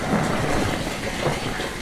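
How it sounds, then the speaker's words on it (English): Steady rain pours with a low rumble of thunder rolling underneath, continuous and fairly loud throughout. "And a big clap of thunder."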